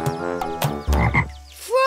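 A cartoon frog in the children's show Waybuloo croaks several times in quick succession, loud and close, with a final rising, drawn-out croak at the end.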